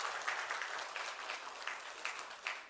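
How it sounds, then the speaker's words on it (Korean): A church congregation applauds to welcome newcomer families at a Sunday service, giving a steady patter of clapping from many hands, moderately distant and even throughout. "박수로 환영하겠습니다"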